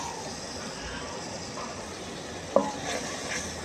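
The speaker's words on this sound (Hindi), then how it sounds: "2 मिनट तक इसको इसी हिसाब से और भून लेंगे ताकि टमाटर अच्छी तरीके से गल जाएं।" Masala with tomatoes frying in a pan for Hyderabadi-style baingan with yoghurt, a steady low sizzle throughout with one sharp clink of utensil near the end.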